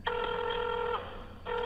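A steady, multi-tone telephone signal sounds on an old phone line, likely the tones heard while dialing: a sustained electronic tone, a short gap, then the tone resumes. It is clear and alone, with no talk over it.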